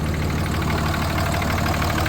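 A 3rd-generation Dodge Ram 2500 with the high-output 325-horsepower Cummins diesel idles steadily, a dense low rumble with a fine clatter holding constant and fairly loud throughout.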